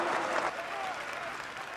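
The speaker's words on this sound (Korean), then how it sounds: "엄청난 함성과 박수가 울려 퍼지는 이곳은 독일 교회" A crowd in a German church cheers and claps in a dense, steady roar with no breaks, a broad wash of applause with voices mixed in.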